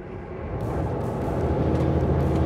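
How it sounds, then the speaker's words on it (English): Semi truck climbing an uphill highway stretch of the Ike Gauntlet, its engine rumble rising in a low, loud drone through a downshift, with no talking. "Ryan is downshifting."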